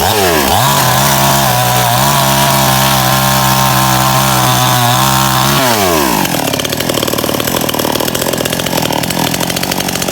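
A small Stihl chainsaw revs loudly and steadily up close, its pitch holding under load as it bites into wood, then the engine note drops and shifts to a rougher, buzzing idle with ongoing cutting noise.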